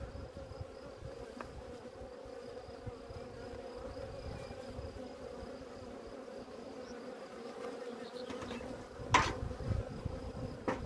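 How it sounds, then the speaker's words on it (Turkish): A dense, steady hum of many Buckfast honeybees buzzing close by at an open hive, with a brief sharp knock near the end. "Bu bir Belfast arı. Gayet sakin bir arı."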